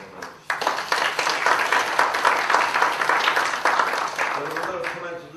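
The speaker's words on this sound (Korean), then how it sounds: "우리 신동배 연구관님한테 박수 한번 보내주시죠." Sustained applause from an audience at a science and ICT convergence forum, honoring a government researcher; dense, steady clapping starts abruptly and holds for about five seconds, tapering slightly at the end.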